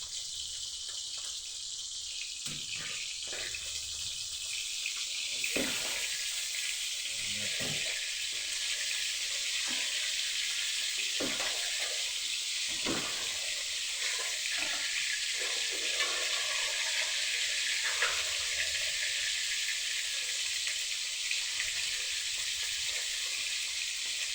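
Galunggong fish frying in a pan of oil, a loud, continuous hiss and crackle that carries on throughout, with occasional bumps and pops.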